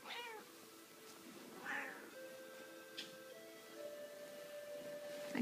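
A cat meows several times in a bed indoors, faint and close, with short separate cries spread over a quiet room.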